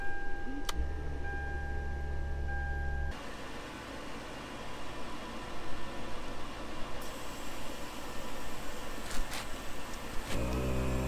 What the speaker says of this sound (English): let's turn the car on and let the air tank fill